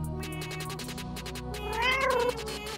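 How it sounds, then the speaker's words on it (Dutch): A cat meows close by, its calls strong and drawn out, with one rising, wavering meow near the end over a steady background. "Het is een kat."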